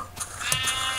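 Sheep bleat inside a Minecraft game, a couple of short synthetic bleats cutting through steady game background sound, close and fairly loud.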